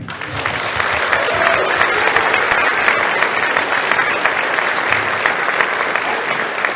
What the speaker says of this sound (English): join me in a grand applause for all of the students in the room